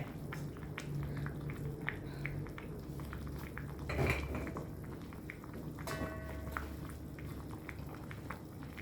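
A pot of pork bone soup with pickled mustard greens simmers on a gas stove, a low steady bubbling bed with scattered clinks of utensils against the pot, one louder clatter midway.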